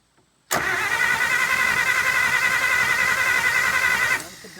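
A 1951 Pontiac Chieftain, unstarted for over 25 years, cranks abruptly into a loud, steady whirring drone that holds for about three and a half seconds before cutting off.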